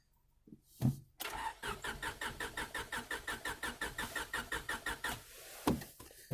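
A 1998 Honda Civic EX cranking as it tries to start: a fast, even run of starter-motor pulses lasting several seconds without catching, bracketed by a couple of sharp clunks, fairly quiet and close.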